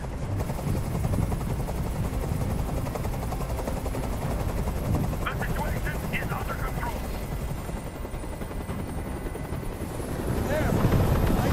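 A helicopter hovers in the video game Detroit: Become Human, its steady rotor roar filling the scene continuously, close and loud, with brief gunfire-like bursts mixed in.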